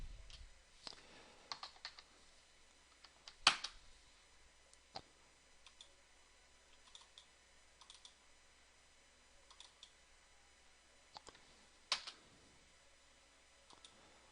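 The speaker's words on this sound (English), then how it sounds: "And then type in exit." Scattered keystrokes and clicks on a computer keyboard in a quiet room, faint and irregular, with a few louder sharp clacks spread across the stretch and near silence between them.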